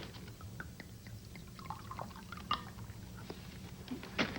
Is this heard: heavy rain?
no